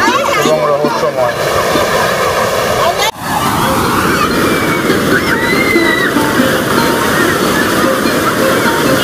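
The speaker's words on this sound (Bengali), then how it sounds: "এই যে ব্লু ফ্ল্যাগ বিচের ঢেউ," Sea waves at the Blue Flag beach in Puri rush and slosh continuously and loudly, with a surge near the start. Faint voices and background chatter run under the water noise.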